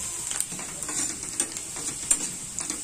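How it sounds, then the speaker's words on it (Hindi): Onions frying in a pan over medium heat, a steady close sizzle with intermittent scraping and clinking as a spatula stirs them, no talking. "आगे देखिए इस तरह भून जाए, भून गए हमारे प्याज।"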